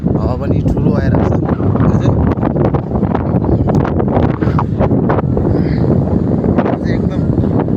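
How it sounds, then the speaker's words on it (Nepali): Strong wind gusting near a tall river bridge beside a road, roaring and buffeting the microphone loudly throughout, with a voice talking over it. "हावा पनि ठुलो आइरहेको छ"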